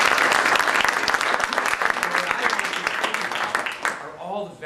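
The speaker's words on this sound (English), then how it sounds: "Let's give them a round of applause." Audience applause for military veterans at a political speaking event, a dense, loud wash of clapping filling most of the clip before fading, with a voice starting to speak over the tail end.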